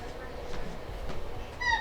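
A cat gives a faint, short meow near the end, over quiet indoor room noise.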